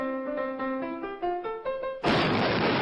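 A cartoon explosion gag with a bar of Swanee River, a traditional minstrel song, playing just before. A short run of plucked, stepping musical notes leads into a sudden loud, sustained burst of noise.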